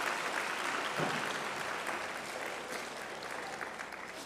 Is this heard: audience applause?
yes